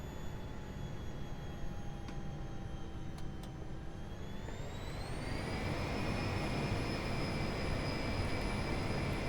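Learjet 45 jet engines spooling up to takeoff power, a steady loud roar with a whine that rises in pitch midway and then holds, heard alone from close by.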